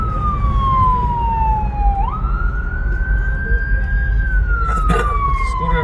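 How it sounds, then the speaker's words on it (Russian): An ambulance siren wails through street traffic in Washington DC, its pitch gliding down, then up and holding before falling again, loud over a constant rumble of passing vehicles. "Или едет. Скорая помощь."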